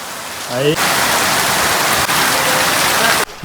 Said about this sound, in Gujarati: વરસાદ પર વરસાદ ચાલુ થઈ ગયો છે